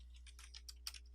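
Someone types on a computer keyboard to fill in form fields, a quick run of soft, close clicks over a faint steady hum.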